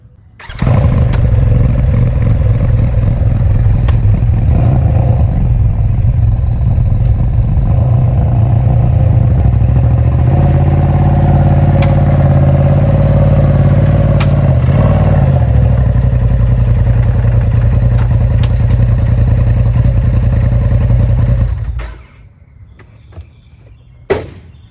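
Vehicle engine running and revving while climbing a ramp during a sway bar installation test: a loud, steady low engine drone with some rising revs for about twenty seconds, then it cuts off into near quiet.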